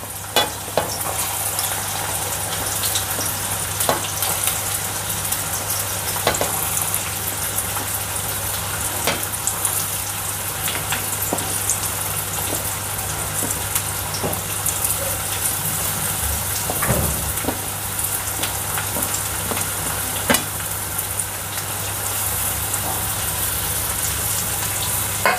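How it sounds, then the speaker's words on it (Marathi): Sliced onions fry in hot oil for an egg dish, a steady dense sizzle close by with occasional faint clicks and a constant low hum beneath it. "तर आता तेल तापलेलं आहे. आपण याच्यामध्ये कांदा टाकूया."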